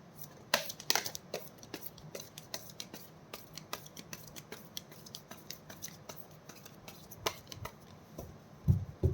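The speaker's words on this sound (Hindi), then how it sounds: "This is my last shuffle." Tarot cards being shuffled by hand, a close, quiet series of crisp riffling flicks and soft slaps in uneven bursts, with a louder shuffle near the start and another near the end, no talking.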